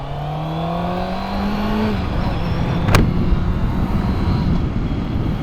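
A 2021 Honda CB650R with a 650cc inline-four engine is ridden at Harriman State Park, the engine note rising loud and close as it revs up through the gears, then settling into a rough, steady drone.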